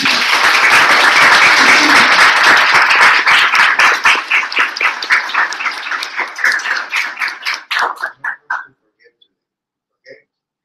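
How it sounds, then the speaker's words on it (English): An audience at a medical talk breaks into loud, dense applause that thins into scattered separate claps and fades out to silence after about nine seconds. "So please join me to a round of applause."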